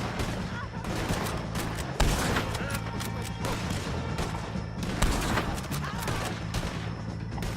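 Rapid volleys of gunfire crackle nearly nonstop through a video game shootout against O'Driscoll gang enemies, with heavier blasts standing out amid the dense barrage and voices shouting beneath it.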